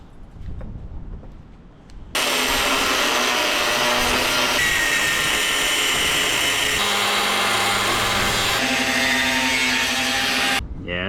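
A power tool cuts out an old, rotted piece of car body metal, a loud, continuous, harsh whine running unbroken for about eight seconds before it cuts off abruptly.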